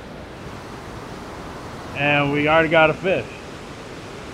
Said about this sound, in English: we moved up to a different waterfall.